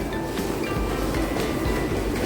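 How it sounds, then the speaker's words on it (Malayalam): A Singapore metro train rumbles through Ang Mo Kio station with a steady, fairly loud rolling noise and faint rhythmic wheel clatter, and no voices. "അപ്പം അങ്ങനെ നമ്മൾ മെട്രോയിലേക്ക് കയറാൻ പോവാണ്."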